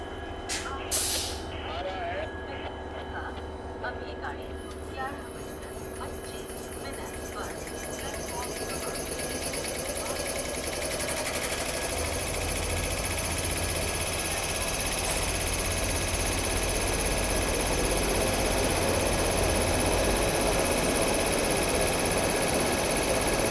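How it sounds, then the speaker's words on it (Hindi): An electric locomotive of the Marudhar Express at Jodhpur station powers up once its pantograph is raised, a steady hum and whine swelling gradually from quiet to a loud, sustained drone with a few clicks and hisses near the start. "अब पेंटोग्राफ ऑन करेंगे। साउंड सुनेगा बस लोकोमोटिव ऑन होने का आप लोग।"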